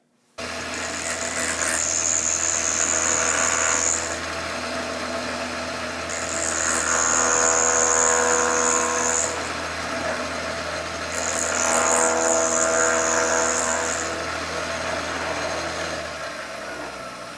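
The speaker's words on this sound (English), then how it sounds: "Now let me show you how the rotary planer will work in a much harder wood, the white oak." A rotary planer spinning in a drill press cuts across walnut in three loud, grinding passes, each a whining roar over the motor's constant hum, with quieter running between passes.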